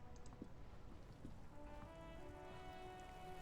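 Steady rain falls in the video game Disco Elysium, a soft continuous hiss with a faint low hum beneath it, heard alone without voices.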